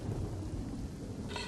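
Heavy monsoon rain pours down in Navsari district, Gujarat, during a red alert. A dense, steady roar of rainfall fills the air with a low rumble of thunder beneath it, and no one speaks.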